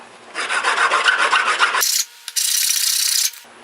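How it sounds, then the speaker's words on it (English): A file rasps across the end of a PVC flute pipe in two bursts of quick, close, scratchy strokes separated by a brief pause, loud and alone with no voices. "we can move on to filing this inner edge here. We want to file that down."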